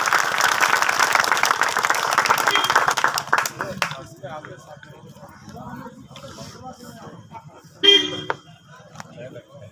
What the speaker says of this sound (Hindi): उनका स्वागत तालियों के साथ में